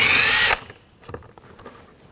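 Power drill fitted with a 7mm socket whirring loudly for half a second as it backs a screw out of a 2014-2018 GMC Sierra 1500 during tow mirror installation, followed by quiet light clicks and handling.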